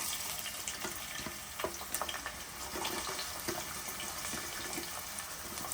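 Chopped onions and green chillies fry in hot oil in a home kitchen, producing a steady, fairly quiet sizzle with soft crackles and occasional stirring scrapes throughout.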